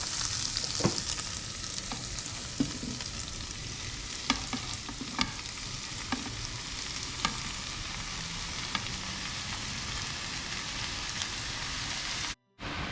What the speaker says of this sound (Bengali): এবার আমি এর মধ্যে শাকটা অ্যাড করে দেবো।